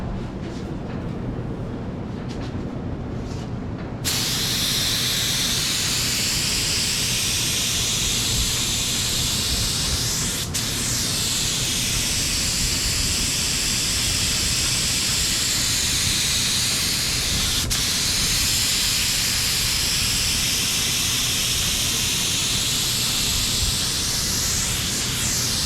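A DeVilbiss FLG4 spray gun lays down high-build primer in a loud, steady rush of hissing air. It starts after a few seconds of quiet and runs almost unbroken for about twenty seconds, with only a couple of split-second breaks.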